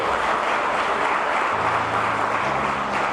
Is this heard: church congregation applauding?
yes